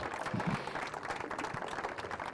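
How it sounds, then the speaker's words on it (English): Audience applause at a wheelchair tennis match at the British Open in Roehampton, a steady broadband patter of many hands clapping, moderately loud and sustained throughout. "A round of applause for these players."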